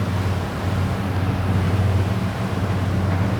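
Sunseeker Predator 57 motor yacht accelerating at sea: a steady, loud engine drone under broad rushing water and wind noise, continuous throughout with no voices.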